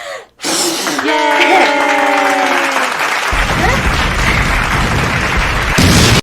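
Hands clap in a commercial for the Clapper, a sustained burst of dense clapping that fills most of the stretch, with a brief voiced tone near the start before the clapping takes over.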